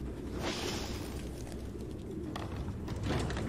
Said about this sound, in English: More pigeons!